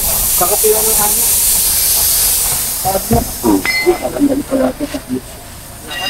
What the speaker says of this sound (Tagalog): Lakas ng singaw mo.